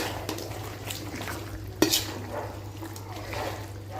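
Chicken kulambu, a curry made in the style of mutton curry, is stirred in a pan, with soft scraping and gentle frying sizzle plus one sharp metallic knock partway through, all close and steady.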